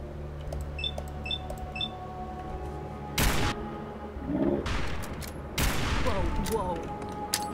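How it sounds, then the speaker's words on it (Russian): In Fallout 4, a gun fires two loud, sharp blasts several seconds apart, each ringing out briefly over quieter game sounds and faint beeps, with a little talk between them. "А, это пушка."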